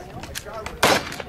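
A single sharp gunshot from a 1911 pistol at a Wild Bunch cowboy action shooting match in the Badlands, a loud close crack with a brief tail, amid low background chatter from people nearby.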